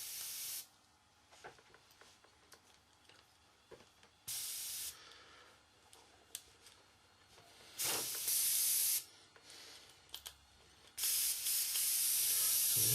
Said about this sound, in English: So we're just going to take our airbrush, just put a little bit of airbrush cleaner in it